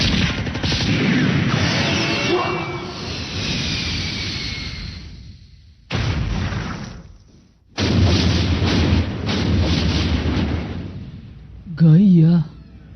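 Weapon fire and explosions from the Japanese tokusatsu series Ultraman Gaia: loud, sustained blasts and rumbling bursts fill most of the stretch, broken by brief pauses, with a short warbling effect near the end.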